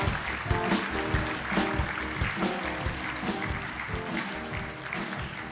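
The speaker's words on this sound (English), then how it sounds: "Please give her a very warm round of applause." Warm applause from an audience at a European Mobility Week awards ceremony as Commissioner Bulc is welcomed on stage, steady sustained clapping throughout with music playing underneath.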